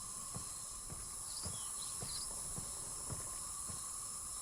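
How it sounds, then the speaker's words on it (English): Crickets chirp in the game Myst (2021), a constant high shrill drone with a few brief higher trills, alongside evenly spaced soft low thumps like footsteps, no talking. "All this noise would just drive me up the wall. All the crickets."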